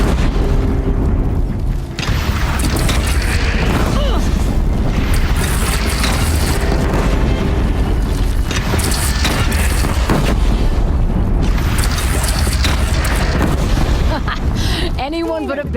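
Booming cannon blasts and explosions in the Horizon Zero Dawn video game, loud and dense throughout a sustained battle with no quiet gaps, with voices shouting over the continuous din.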